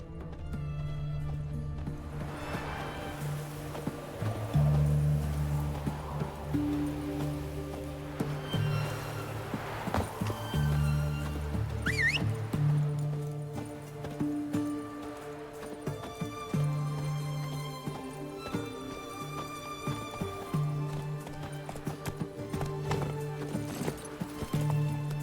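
Horse hooves clip-clopping at a steady gallop in The Witcher 3, with occasional whinnies over a background music bed that continues throughout.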